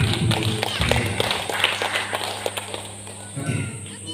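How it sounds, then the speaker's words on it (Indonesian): A church congregation claps and cheers after a greeting at a service, the applause steady and moderately loud throughout with voices mixed in. "sekali lagi kita beri tepuk tangan untuk yang kami itu"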